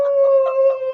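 Dog howling up close, a single sustained, steady-pitched wail with slight wavering, loud and alone with no talk.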